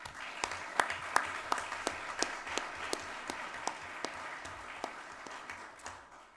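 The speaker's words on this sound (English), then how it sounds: "Let's give him another round of applause" Sparse scattered clapping from a small conference audience at a policing event, individual claps standing out irregularly rather than a full ovation, fairly quiet and distant.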